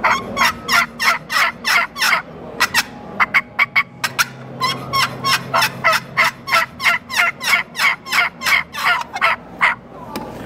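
Two turkey calls worked at the same time imitate hens, giving loud, close, rhythmic runs of sharp yelps that overlap in quick repeated bursts.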